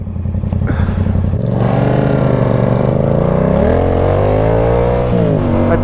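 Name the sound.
cars racing across an intersection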